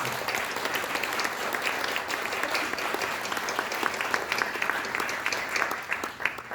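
An audience at an awards and scholarship ceremony marking a national founding anniversary applauds a 23-year-old student, steady, full clapping from many hands, continuing evenly.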